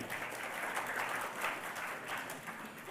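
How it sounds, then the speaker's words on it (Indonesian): A crowd at a retail industry launch ceremony in Indonesia claps steadily for a few seconds, a dense, even patter of applause without voices standing out. "Tepuk tangan buat kita semua."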